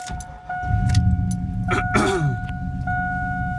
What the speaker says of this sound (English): Okay, so we're gonna start the truck out.